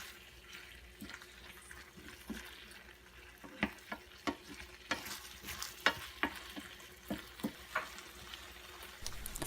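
Stir-fried chicken dak galbi with sweet potatoes and added vegetables, a continuous sizzle broken by repeated sharp clacks and scrapes of a spatula against the pan, close and fairly quiet, no voices.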